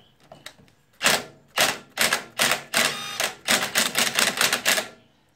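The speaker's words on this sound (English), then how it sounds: "hopefully the impact wrench can get it off" Impact wrench with a 12mm socket working on a bolt of a farm bike, firing in a rapid series of loud, close bursts of hammering, several short sharp blasts in succession.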